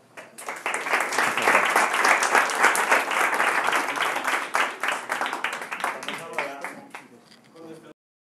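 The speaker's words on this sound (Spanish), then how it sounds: "Un aplauso para..." A conference audience at a Fuck Up Nights event in Bogotá breaks into loud, dense applause that swells quickly, holds for several seconds, then thins out and stops.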